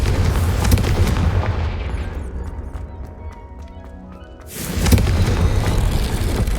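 A Confringo blasting spell is cast in the Hogwarts Legacy video game, a loud booming blast that fades to a quieter lull before another heavy rumbling burst follows.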